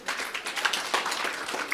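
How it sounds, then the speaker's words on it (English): An audience at a climate action event claps in a short, close burst of many hands that keeps going for just under two seconds. "Clap for yourself"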